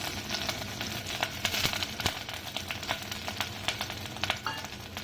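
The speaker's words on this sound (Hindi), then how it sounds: "इसको थोड़ा सा पिंक होने तक थोड़ा सा फ्राई करेंगे, जब तक पिंक होगा।" Chopped onion frying in butter in a pan makes a close, steady sizzle with crackles and occasional stirring scrapes, continuous and without talk.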